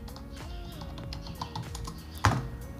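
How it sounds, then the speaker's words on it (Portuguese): Fingers type on a computer keyboard, quick light keystrokes over a low background hum, with one sharper, louder tap near the end. "Deixa eu digitar aqui amplificador."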